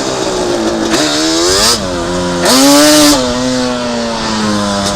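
A Yamaha Banshee two-stroke engine with a modified air box revs loudly up close, its buzzing pitch rising and falling in repeated throttle blips over a continuous drone.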